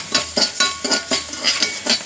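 Horse gram dry roasting in a pan makes rhythmic scraping and rattling as it is stirred, with about eight sweeps in quick succession, close and moderately loud with no voices.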